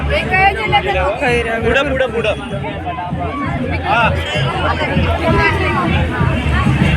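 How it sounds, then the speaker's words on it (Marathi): Dense crowd babble fills a packed fair lined with food and toy stalls, many overlapping voices close by and constant, with nearer people talking through it. "भरपूर गर्दी सगळं पॅक झालेलं आहे"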